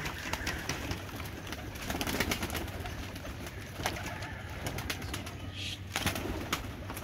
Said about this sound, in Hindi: ये आठों कबूतर उड़ रहे हैं